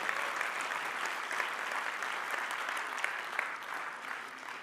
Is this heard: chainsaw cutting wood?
no